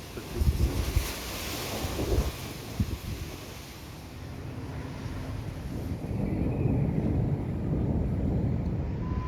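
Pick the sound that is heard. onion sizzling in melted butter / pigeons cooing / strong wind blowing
strong wind blowing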